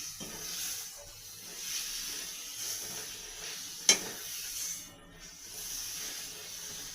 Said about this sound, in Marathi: आणि आता ही सुकट आहे ती मी टाकते. चांगलं तिला मसाल्यामध्ये परतवून घ्यायची.